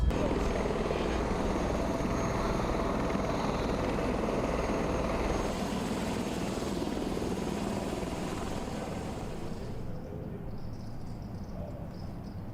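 A helicopter's steady rotor and engine drone runs throughout from inside the cabin, loud and continuous, slowly easing near the end, with faint talk underneath.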